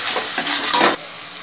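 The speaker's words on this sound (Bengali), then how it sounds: "এবার সবগুলো ভালোভাবে কষিয়ে নেব।" Spice paste with turmeric and salt fries in a pan for a rui fish curry, a loud steady sizzle with stirring scrapes that cuts off abruptly near the end.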